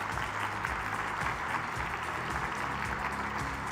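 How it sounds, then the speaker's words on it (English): An audience at a conference competition applauds its finalists, dense sustained clapping from a large crowd in a hall, steady and even from start to finish. "give them all a big round of applause"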